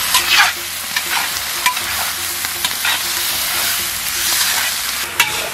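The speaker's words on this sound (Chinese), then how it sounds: "把西红柿汁炒出来" Tomatoes stir-frying in a hot pan with spices, a steady sizzle broken by repeated scraping and clacking strokes of the spatula, close and fairly loud.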